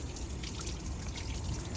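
Water flushing steadily through the cooling system of a Ford Transit 1.8 TDCi with the thermostat removed, a continuous close rushing trickle with no talk.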